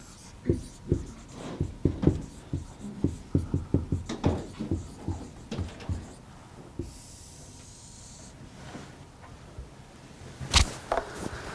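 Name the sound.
writing during a grammar lesson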